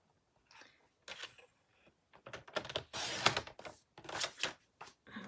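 Rich raspberry cardstock being cut into a strip for a card, a run of close, dry crunching and ticking cuts in uneven bursts, louder toward the middle, with no talking.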